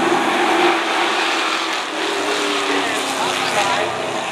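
Race cars roaring around the Snapper racetrack, a steady close engine drone under continuous commentary from a speaker.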